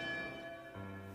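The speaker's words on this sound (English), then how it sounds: "the church bells rang a signal" A church bell rings a signal in a Philippine town southeast of Manila. The bell gives a sustained tolling tone, quiet and somewhat distant, and its pitch shifts partway through.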